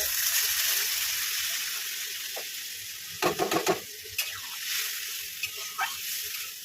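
Vegetables sizzle in a pan of mixed tarkari after water is added, a steady hiss with a quick burst of clattering stirring in the middle and a few scattered scrapes after.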